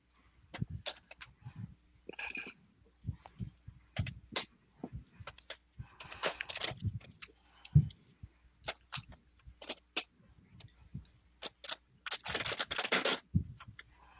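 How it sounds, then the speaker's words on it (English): A husband pulls a snack from its packaging at home, giving loud crinkling and crunching bursts in irregular clusters, with heavier rustling near the middle and end, close by and alone without talk. "Sorry for the crunching noise."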